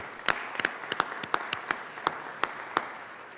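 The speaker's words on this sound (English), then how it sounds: "If we can give them a round of applause." Scattered applause in the Colorado Senate chamber, a modest group clapping with distinct individual claps standing out over a softer wash, fairly light and close.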